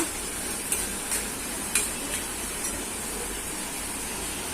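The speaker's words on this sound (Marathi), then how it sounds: "कांदा चांगला परतला लालसर झाला की टोमॅटो प्युरी नाही तर बारीक करून टोमॅटो घालायचा." Chopped onions fry in oil in a pan for rajma, giving a steady crackling sizzle with several light scraping knocks as they are stirred, close and continuous with no voices.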